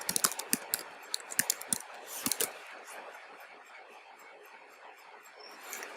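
Fingers tap bursts of keystrokes on a computer keyboard while code is written, quick clustered clicks near the mic, then quieter scattered taps with a brief run at the end.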